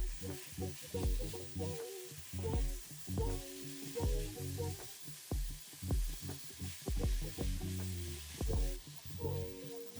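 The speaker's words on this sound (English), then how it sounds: "We'll stir fry this for just a couple of minutes or until the beef is cooked through and the onions are tender." Marinated lemongrass beef and onions stir-fry in a hot pan with a continuous sizzling hiss, partly covered by rhythmic, tonal background music.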